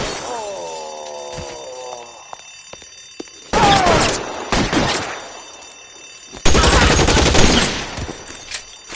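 Heavy gunfire in the L.A. Noire video game: two long, loud bursts of rapid shots, separated by quieter stretches that follow a rising, tonal electronic whine.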